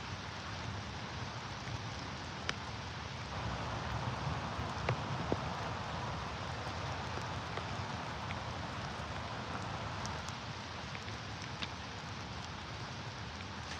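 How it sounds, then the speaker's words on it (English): Rain pattering steadily outdoors during a fishing outing in Ontario, a dense continuous patter with scattered sharper drop hits, moderately loud and unbroken, with no voices. "The raindrops are starting to press buttons on me."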